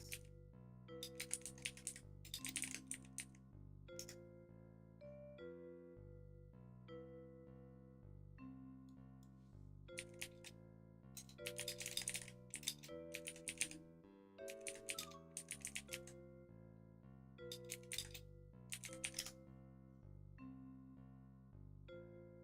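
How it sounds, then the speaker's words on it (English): Typing on a computer keyboard, quick irregular clusters of key clicks in bursts separated by pauses, fairly close and audible over a sustained musical backdrop. "I can hear you typing."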